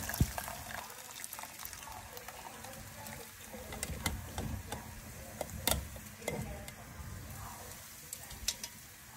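Boiled bitter gourd pieces drained through a strainer, with scattered wet clinks and faint dripping, pouring water and a spoon pressing the pieces, quiet and close.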